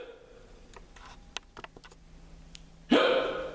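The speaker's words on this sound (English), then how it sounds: "help me get rid of my hiccups" A single sharp hiccup bursts out near the end, loud and close after a quiet stretch of faint ticks and clicks.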